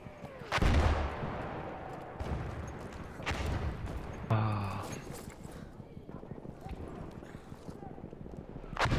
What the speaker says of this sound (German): Koordinaten des Feindes wurden an unsere Artillerie übermittelt.